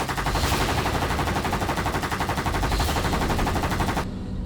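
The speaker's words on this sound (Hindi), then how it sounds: "ये पटाखों की आवाज नहीं, कोई गोली बरसा रहा है।" Sustained rapid gunfire, a dense unbroken burst of automatic shots, loud and close, cutting off abruptly near the end.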